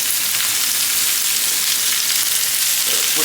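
Steak for fajitas sizzling in a hot pan as it chars, a loud, continuous, close hiss of frying that stays steady throughout with no talking.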